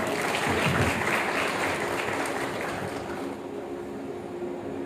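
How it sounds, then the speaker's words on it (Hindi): A crowd at a Janmashtami celebration claps together in sustained, dense applause that is loudest at first and then tapers slightly while continuing to the end. "ताली बजाएं।"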